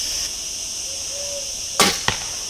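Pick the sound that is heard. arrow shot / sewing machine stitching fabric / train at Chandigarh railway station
arrow shot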